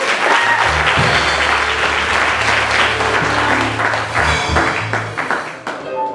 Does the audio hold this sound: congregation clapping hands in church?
yes